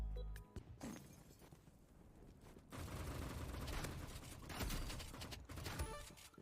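Shotgun blasts from the Roblox game Rivals fire in a quick burst of heavy booms, loud and close, with brief mechanical clatter between shots.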